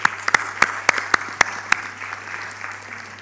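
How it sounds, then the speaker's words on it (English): Graduation audience at a hotel-school ceremony applauds year-two diploma students, steady clapping with several sharp louder claps standing out near the start before settling into an even, moderate patter. "So let's give our diploma students from year 2 a big round of applause."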